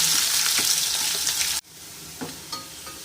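Fenugreek seeds and onions sizzle loudly in hot oil for a Tamil ooli fish curry, a steady dense fry that cuts off abruptly into a quieter sizzle with a few sharp stirring clicks.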